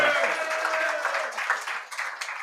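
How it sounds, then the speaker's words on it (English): Brief applause from a crowd at a high school football broadcast at Mt. Juliet High School, moderately loud and fairly steady, ending with a faint voice. "You all are free to applaud him."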